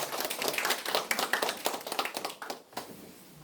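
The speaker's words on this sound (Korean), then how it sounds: "격려의 박수 좀 부탁드리겠습니다" Applause at a community residents' council meeting for two people receiving commendations, a small group clapping steadily for a few seconds at moderate distance, tapering off at the end.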